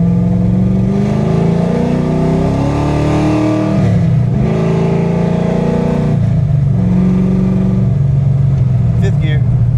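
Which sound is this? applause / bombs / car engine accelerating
car engine accelerating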